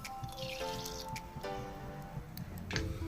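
Mustard seeds dropped into hot coconut oil in a pan, giving scattered sharp pops and wet sizzling crackles over a low steady hiss, close by.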